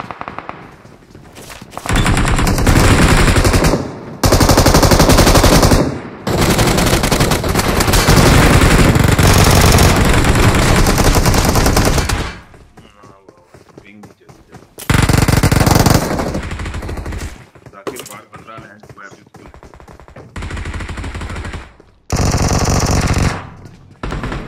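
Long bursts of rapid automatic machine-gun fire in a zombie-event shooter game, loud and sustained, broken by short pauses between strings of shots.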